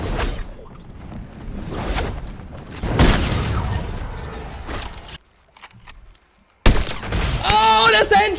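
Gunshots in Fortnite Zero Build gameplay, several sharp bursts and booms with whooshes, broken by a brief near-silent gap before a final loud shot, with a voice talking over parts.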